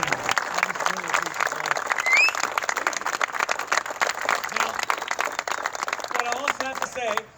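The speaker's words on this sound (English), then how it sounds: "So can I just give them one more round of applause?" Crowd at a Republican primary victory rally for Virginia's Second District gives another round of applause, with sustained dense clapping and scattered cheers, and speech rising above it.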